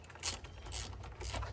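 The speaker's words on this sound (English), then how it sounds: "he's using a wrench or a ratchet" A ratchet wrench clicks in three short bursts while working on the spark plugs of a 2009 Ford Escape, close and fairly loud under a faint low background hum, with no talking.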